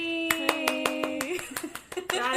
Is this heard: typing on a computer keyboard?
no